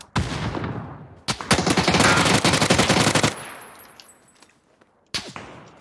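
Gunfire in PUBG on the Vikendi map: a single loud shot, then a rapid automatic burst lasting about two seconds, a fading ring, and another sharp shot near the end, with no talk.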